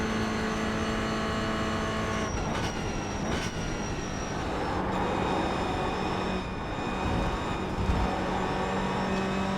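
A race car engine droning on a long straight in a racing video game, a steady tonal whine with a few shifts in pitch, no talk.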